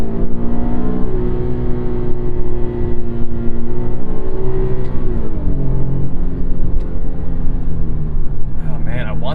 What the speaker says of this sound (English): Transmission in manual mode is a little bit sloppy, a little bit slow. The downshifts are rough.